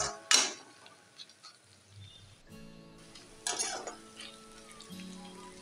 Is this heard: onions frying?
yes